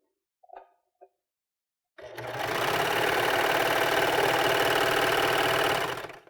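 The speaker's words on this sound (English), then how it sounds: "Let's serge out our thread that we have left in our machine." Overlock serger running continuously to serge out leftover thread, a loud steady mechanical whirring hum after a couple of faint taps.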